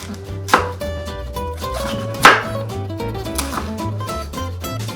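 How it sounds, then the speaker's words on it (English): Steady rapid knife chopping on a board, a dense rhythmic tapping of blade through a head of white cabbage, with music playing underneath. "I'm gonna get started on shredding this cabbage."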